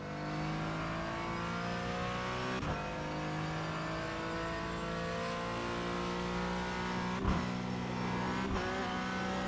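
Race car engine in iRacing holding a steady, loud, harmonic-rich drone, with brief sharp breaks as gears change and no voices over it.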